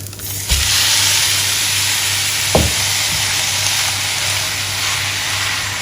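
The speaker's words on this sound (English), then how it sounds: "We will now just cook this mince until it is loose and cooked" Mince frying with golden onion in a pan for South African bobotie, a strong continuous sizzle with a couple of stirring knocks. Close by and steady, with no talking.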